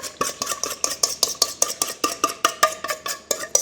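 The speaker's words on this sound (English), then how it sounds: "I'm just taking my whisk and I am just mixing all of that up" A whisk beats yogurt starter in a bowl with a steady, rapid rhythm of sharp metallic clicks and scrapes, close and clear with no talking.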